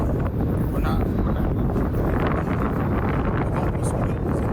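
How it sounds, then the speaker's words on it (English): Strong wind buffets the microphone in a constant roaring rumble while crappie fishing, with a voice partly buried underneath. "It's a little bit windy, but not too bad."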